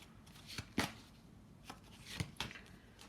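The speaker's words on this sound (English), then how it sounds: "before I shuffle your cards, I am just going to pull you one additional guidance card" Tarot cards being handled and shuffled at a reading table, giving several soft, brushing riffles and taps at close range with no talking.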